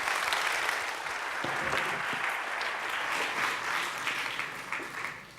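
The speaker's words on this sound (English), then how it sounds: "So a round of applause for my colleagues here." Audience applause for the panelists at a conference, steady dense clapping from a large crowd that holds for several seconds before tapering slightly at the end.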